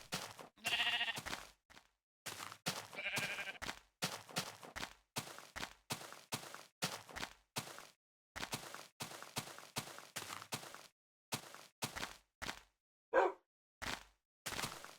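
Repeated sheep bleats from a video game, short bursts spaced through the stretch with brief gaps, fairly faint and close, with no talking over them.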